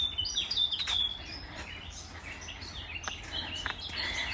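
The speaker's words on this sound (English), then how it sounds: "Love listening to the sound of the birds." Several woodland birds chirp and tweet in short bright bursts over a steady outdoor background hum in the Yorkshire Dales, moderately near, with calls scattered throughout.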